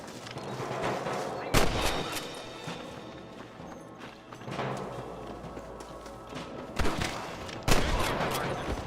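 Scattered gunshots ring out in a Red Dead Redemption shootout, sharp isolated cracks spaced a second or more apart over a dull ambient background, with occasional faint voices.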